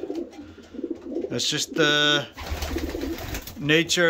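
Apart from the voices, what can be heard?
breeding birds cooing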